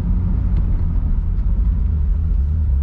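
A Ferrari driving on a road through the Wiltshire town of Marlborough, heard from inside as a steady, loud low engine rumble and road roar that holds even throughout, with no talk.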